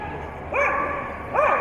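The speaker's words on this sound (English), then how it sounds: "a 9-year-old Entlebucher mountain dog" An Entlebucher mountain dog at an indoor agility championship course gives two sharp, close, high-pitched barks roughly a second apart over steady arena background noise.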